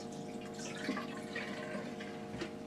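Potable-water antifreeze poured into a sink P-trap makes a soft, steady trickle with faint drips, close but quiet.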